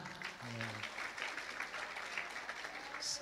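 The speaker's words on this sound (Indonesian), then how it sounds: "Tepuk tangan." Students and guests clap at a Madrasah Aliyah school's Maulid Nabi celebration, a moderate, steady wash of applause with a brief voice or tone near the start.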